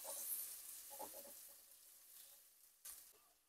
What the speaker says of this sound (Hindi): अब प्याजों को हम लोग थोड़ा सा फ्राई करके फिर इसके अंदर हम मटर भी डालेंगे।